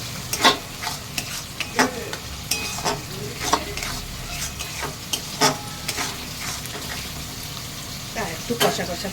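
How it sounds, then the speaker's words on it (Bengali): Masala frying in oil as ground tomato paste and salt are stirred in for home-style chicken kosha: a steady close sizzle with repeated scraping stir strokes, fairly loud throughout. "এর মধ্যে আমি 2টো টমেটো বাটা দিয়ে দিচ্ছি, আর সাথে 1 চামচি নুন"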